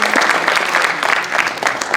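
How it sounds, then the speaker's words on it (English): An audience gives a CAHS alumni panel a round of applause, with loud, continuous clapping that rises and falls slightly in uneven bursts and no clear speech over it. "can we give our panel a round of applause?"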